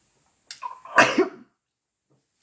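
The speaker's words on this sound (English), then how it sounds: "I'm going to sneeze." A single sharp sneeze from a woman bursts out loudly after a short breathy intake, then stops abruptly into silence.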